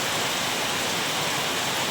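Heavy rain pours steadily through the night, a dense, loud, unbroken hiss close by with no pauses or other sounds.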